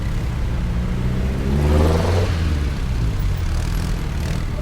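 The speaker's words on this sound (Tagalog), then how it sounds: "Parang traffic eh." A car engine passing on a congested road, with a steady rumbling hum that swells in the middle as the vehicle goes by, then settles back.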